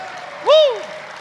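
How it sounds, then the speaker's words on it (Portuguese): A church congregation applauds in a steady wash of clapping, with a single voice swelling briefly above it in a rising and falling cry partway through. "Pode aplaudir mais forte, irmão, mais forte que a tempestade que deu quase agora"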